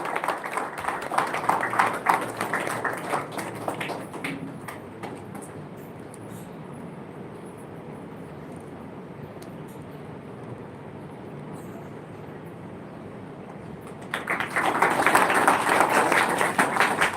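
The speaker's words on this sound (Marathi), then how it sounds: "आपण टाळ्यांचा व्यायाम करू त्यांना शुभेच्छा देऊया" An audience claps in applause to honour a guest at a yoga teachers' association event, with a loud burst of clapping at the start, a quieter stretch of room noise, then another strong round of applause near the end.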